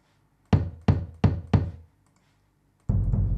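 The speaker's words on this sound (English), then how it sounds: "And those ones are the knock sounding bass drums." Four punchy knock-like bass drum samples from FL Studio strike in a steady rhythm, each decaying quickly, followed by a pause and then a denser, sustained drum hit pattern, with no talk.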